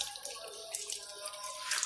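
Water rushes from the outlet tap of a well water filtration system, the first flow coming out slightly cloudy, a steady close hiss of running water with no talking.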